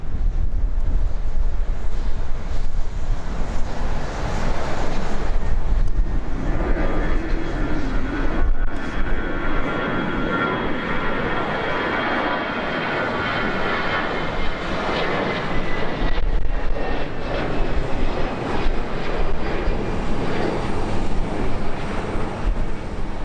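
An American Airlines jet takes off from runway 7 left, a loud, steady engine roar that fills the whole stretch and builds and shifts in tone as it climbs, with wind buffeting the microphone.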